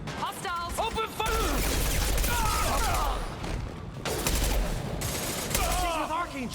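Sustained bursts of rapid gunfire crackle in a Mass Effect 2 firefight, nearly continuous with brief lulls, while character voices shout over the shooting.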